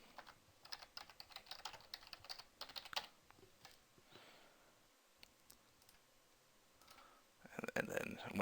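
Typing on a computer keyboard while editing church membership groups and classes: quick, quiet clusters of key clicks come in bursts, pausing in the middle before a louder flurry of clicks at the end.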